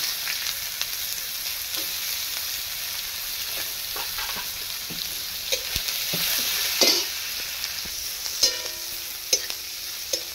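Chopped onion and grated ginger fry in a pan, a constant bright sizzle broken by sharp clicks and scrapes of a stirring spoon against the metal, close up and without speech.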